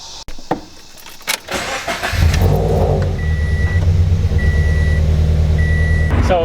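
A Subaru BRZ fitted with wheel spacers starts up after some handling clatter and settles into a steady, close idle, with repeated electronic warning beeps sounding over the engine.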